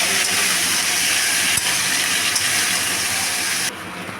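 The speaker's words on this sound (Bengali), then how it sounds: "এবার একসাথে সমস্ত সবজিগুলোকে ভালোভাবে ভেজে নেব" Mixed vegetables, including potato, papaya and stalks, frying together in a pan, giving a loud, continuous hissing sizzle close up that drops away abruptly near the end.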